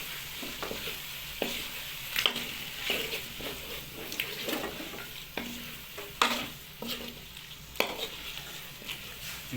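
Chicken livers fry in spice masala in a pan and are stirred, giving a steady sizzle broken by repeated scraping and clinking strokes of the spoon against the pan at close range.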